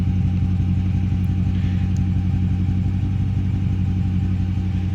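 A 2016 Dodge Charger R/T V8 fitted with Borla Pro XS mufflers rumbles loudly and steadily up close, its deep exhaust note holding an even idle-to-rev drone throughout with no voices.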